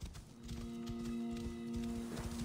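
Horse hoofbeats from riding in the video game Assassin's Creed Origins, a steady clip-clop rhythm at moderate level over a sustained game music drone, with no talk.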